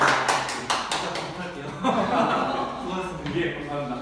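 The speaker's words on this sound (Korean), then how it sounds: "다시 한번 박수 부탁드립니다" Audience at a lecture clapping briefly in a short burst, mixed with light chuckles and murmuring talk as the applause fades.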